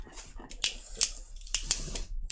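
Someone cutting open a cardboard shipping box, giving a few sharp close slicing and tearing bursts spaced irregularly across a couple of seconds.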